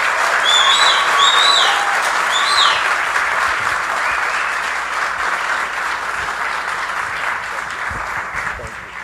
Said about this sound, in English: round of applause for our governor and all of his support